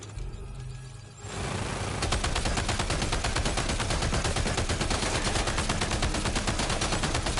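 Video game gunfire starts after about a second of quieter sound, then runs as a loud, rapid, continuous automatic burst until the end.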